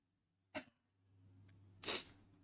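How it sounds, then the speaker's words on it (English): A single close, sharp sneeze bursts out, with a smaller catch of breath before it, against a faint low hum in an otherwise quiet room. "Sorry, I sneezed."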